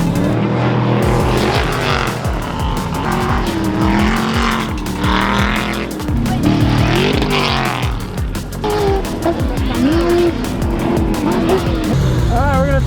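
A VTEC-swapped Baja Bug, a Volkswagen Beetle-based off-roader, runs roughly off-road, its engine surging and sputtering loud and close with some tire noise. People talk over it.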